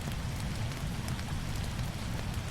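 Steady rain falls in a video game, a dense continuous patter of raindrops on surfaces that holds level throughout, with no voices.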